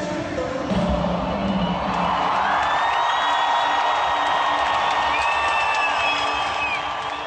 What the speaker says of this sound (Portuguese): Roger Waters foi aplaudido ao pedir para os fãs resistirem contra o fascismo